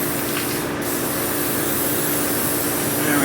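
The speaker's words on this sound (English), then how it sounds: "we're going to spray the frame with WD-40." WD-40 aerosol sprayed onto an old 1950s storm window frame, a steady, close hissing spray running continuously for about three seconds with no talking.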